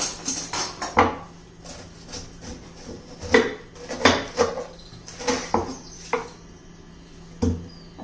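A knife chops through cabbage in irregular, sharp, close strokes, roughly a dozen over several seconds, with faint kitchen clatter between cuts.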